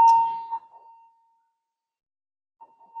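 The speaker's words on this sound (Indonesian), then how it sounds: "Sebentar ada bel dulu." A school bell at an Indonesian senior high school rings out clearly in a quiet room, one loud ding that fades over about a second, then sounds again faintly a couple of seconds later.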